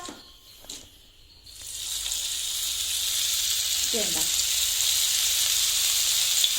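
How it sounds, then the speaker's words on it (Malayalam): Raw jackfruit vada frying in hot oil gives a steady, bright sizzle that swells after a quiet start and holds near and loud, with a faint voice briefly in the background. "ഇനി നമുക്ക് എണ്ണയ്ക്കകത്തിട്ട് പൊരിച്ചെടുക്കാം"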